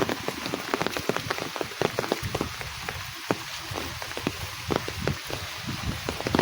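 Rain patters on surfaces in a village, a dense steady spatter of close drops with frequent sharper taps throughout, and no voices.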